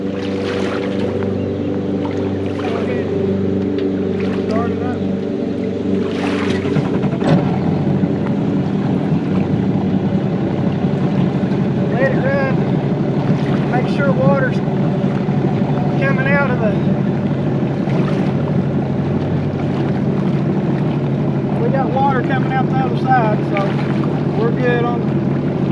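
A Yamaha Superjet four-stroke jet ski engine runs steadily at a boat ramp, a continuous low mechanical drone with wind and water noise, while people talk over it.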